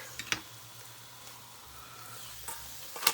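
Ghee and oil crackle and sizzle quietly in a pan, with a few sharp pops and spatula clinks breaking through the steady hiss.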